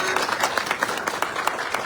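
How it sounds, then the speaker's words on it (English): An AGM audience claps for their president Cindy Paul Girdwood, a steady crowd applause with distinct sharp claps scattered through it, fairly close and continuous, with a faint voice mixed underneath. "Please give her a round of applause."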